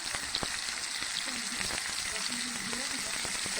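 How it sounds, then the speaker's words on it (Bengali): Pointed gourd (potol) with turmeric and salt fries gently in a pan over medium heat, a continuous close sizzle with a few light clicks and utensil taps. "আস্তে আস্তে ভেজে নিব।"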